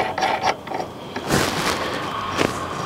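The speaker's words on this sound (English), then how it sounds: "24mm wrench and socket to tighten it." A 24mm wrench and socket tightening a nut onto a bolt during an equipment install, heard as close, irregular ratcheting clicks and metallic scraping in short bursts.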